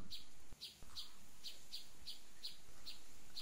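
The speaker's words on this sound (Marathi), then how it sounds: "चिमणीच्या चिवचिवाटने घरात सकारात्मक आणि आनंदी वातावरण निर्माण होते" Sparrows chirping in a quick, regular series of bright short notes, steady and moderately close over quiet background hiss.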